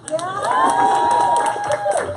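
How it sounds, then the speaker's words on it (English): An audience claps and cheers after a dramatic stage performance, a loud crowd burst with scattered shouts and whoops layered over sustained applause. "They were waiting to clap. You can clap now."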